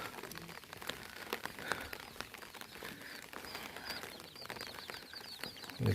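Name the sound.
rain falling in a tribal village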